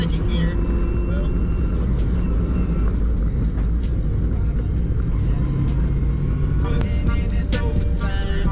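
An 800hp Cobra sports car on a wet road, its engine roaring loud and steady as it accelerates in second gear, with a constant low growl and road noise throughout.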